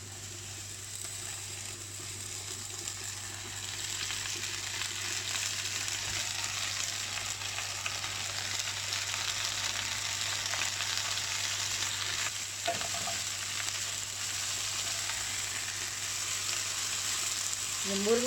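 Moringa leaves sizzling and frying in a pan with onion and garlic, a steady crackling hiss throughout with occasional stirring scrapes, close and alone without speech.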